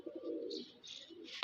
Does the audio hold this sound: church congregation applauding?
no